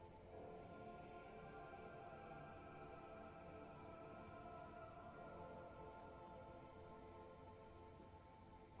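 Constant rainfall in the game Disco Elysium, a thick, uniform hiss and patter of droplets hitting the ground that never lets up, moderately quiet and heard alone.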